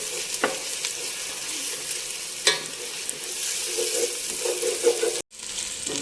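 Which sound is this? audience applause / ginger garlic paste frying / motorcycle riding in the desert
ginger garlic paste frying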